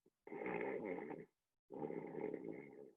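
A voice imitating snoring in two long, rough, rattling breaths, close and fairly loud, separated by a short silence.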